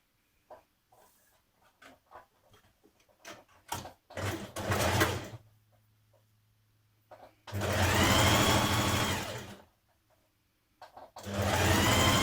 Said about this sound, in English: Now stitch your underarm seam of your jacket, matching your notches.